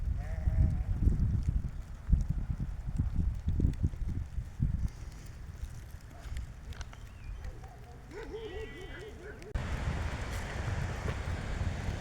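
Goats bleating outdoors on a farm in drizzly spring weather, several thin wavering calls rising in the middle of the stretch over steady wind noise and rumbling low background.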